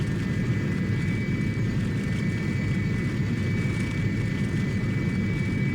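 Engines of an Azal Avia cargo aircraft roar steadily through the takeoff roll, a dense, loud, unbroken rumble with a faint high whine on top and no pauses.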